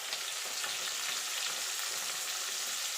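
Potatoes fry in oil with turmeric for a mutton curry, a close, even crackling sizzle that runs steadily throughout with no talk.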